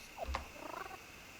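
A cat purring while being petted in The Sims Bustin' Out on Game Boy Advance gives a brief, soft, low rumbling pulse followed by a light chirpy game tone, fairly quiet against a steady background hum.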